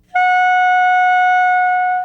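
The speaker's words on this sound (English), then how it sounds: "Then drop your tongue down and blow air from your lungs through the mouthpiece opening." Clarinet mouthpiece and reed blown alone, giving a single loud, piercing, steady squeal that starts abruptly and holds for about two seconds with no talking.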